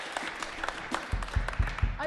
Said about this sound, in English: nobody ever gets applauded for talking about money in parking lots, but it's happened at our services